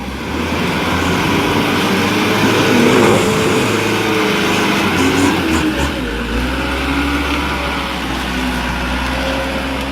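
A dump truck on a wet road has a loud, close diesel engine droning steadily and rising in a strained rev before settling to a lower rumble.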